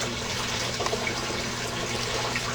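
Warm water pouring from a tap into a container for germinating seeds, a steady close rushing splash that stays even and continuous throughout.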